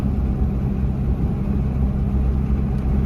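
A Toyota Tacoma pickup fitted with an aftermarket exhaust cruises at moderate speed with the window down, giving a continuous low engine rumble mixed with road and wind noise, steady and moderately loud.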